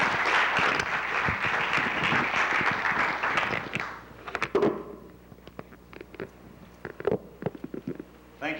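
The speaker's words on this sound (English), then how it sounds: "Thank you for the applause before I've even begun speaking." Audience applause at an evening community health forum as a hospital CEO is introduced, dense clapping for about four seconds that thins into scattered individual claps and stops.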